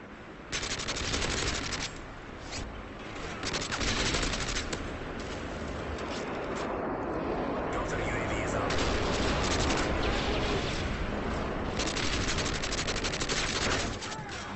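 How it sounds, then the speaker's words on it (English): Dense, loud automatic gunfire and explosions from an enemy strafe run in a Modern Warfare 3 team deathmatch, with sustained barrages and bursts under occasional game voice callouts. "Enemy strafe run incoming."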